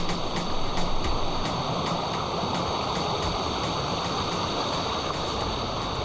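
Small rainy-season waterfalls trickle down rocks in a rainforest patch at Cheow Lan Lake in Khao Sok National Park, making a steady, close, unbroken rush of water that stays even throughout.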